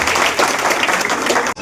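An audience at an Independence Day event bursts into dense, loud applause, a continuous wash of many hands clapping together that cuts off abruptly near the end.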